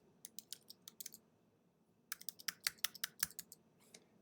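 Keys on a computer keyboard clack in two quick bursts of typing separated by a short pause, close and crisp against a quiet room.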